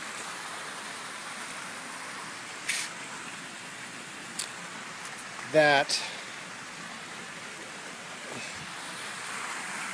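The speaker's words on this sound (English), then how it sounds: "it's just insanely water raining now. Downpour, torrential downpour." A steady, dense roar of heavy torrential rain fills the whole clip, with a short spoken word and a couple of brief knocks partway through.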